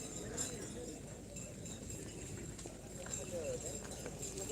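Bulls' hooves thud at a Madurese karapan sapi bull race in Pamekasan, with a clip-clop texture under a noisy crowd and steady talking.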